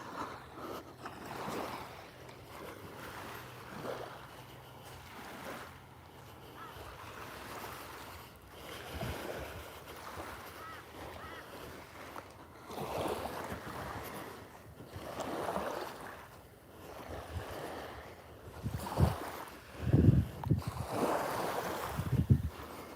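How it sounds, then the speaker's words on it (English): Ocean waves on a beach, surging and washing in slow repeated swells with wind noise, moderately loud and fairly distant, no talking. "Love the sound of the ocean."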